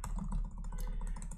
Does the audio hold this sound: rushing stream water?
no